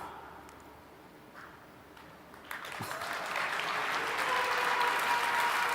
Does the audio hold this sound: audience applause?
yes